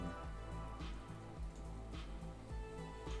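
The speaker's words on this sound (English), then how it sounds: "I do like being inside and hearing rain." Steady rain patters on a surface, with dense drops in a continuous wash and a few louder taps on top.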